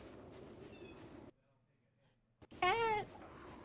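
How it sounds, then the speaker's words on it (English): A pet cat meows loudly and close by in one drawn-out, wavering call near the end, after a stretch of game background noise and a brief silence, with talk around it. "Oh, I hear my cat."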